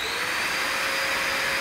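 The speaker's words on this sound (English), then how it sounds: "it gets swallowed by the tubes, you'll hear it going down and off into the vacuum unit" A gutter vacuum pulls air and debris through its tubes with a constant loud whooshing roar and a steady motor whine, unbroken throughout with no talk.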